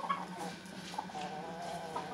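A breeding hen clucks softly close by in a farmyard, giving a few short scattered clucks over a low steady background.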